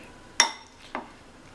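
A spoon clinks against a bowl twice while cauliflower pieces are mixed into batter, two sharp, close taps in an otherwise quiet kitchen.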